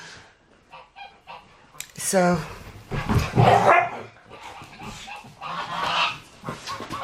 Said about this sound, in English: My dogs and all the animals are waiting to be fed.